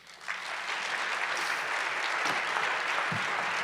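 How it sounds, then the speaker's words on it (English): Applause from a conference audience after a talk on big data and nutrition swells quickly and holds as a steady, dense clapping from a crowd. "Big round of applause."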